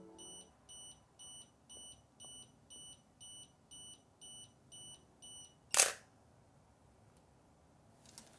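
A film SLR's self-timer beeps in a steady, evenly spaced series of about a dozen short electronic tones, then the shutter fires with a sharp mechanical snap, followed by quiet and a faint click.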